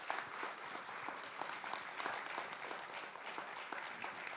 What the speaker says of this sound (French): je vous demande d'applaudir Eric Serra et merci encore